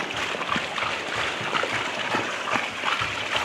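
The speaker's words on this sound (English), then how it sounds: "we need to add some water in" Water pours steadily into a hot-mixed lime plaster mortar mix in a drum, a continuous rushing, splashing wash with no talk.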